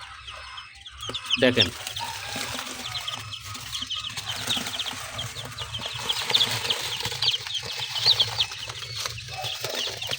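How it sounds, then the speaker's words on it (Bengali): A brood of young chicks, hatched the day before, peeps in a dense, continuous high-pitched chorus close by, with someone speaking briefly near the start. "এটা হলো মুরগির বাচ্চা"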